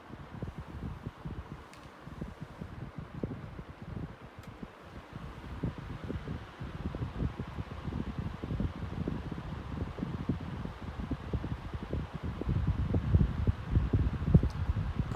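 A 2000s Tesco PF167 16-inch pedestal fan runs on its lowest speed, giving a steady soft whooshing airflow with a low rumbling flutter, close and continuous with no talking.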